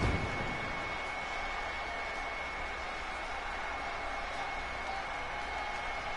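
A Philadelphia crowd at a women's wrestling event applauds with steady, distant, washy clapping and murmur that holds at an even level throughout, with a faint constant tone underneath.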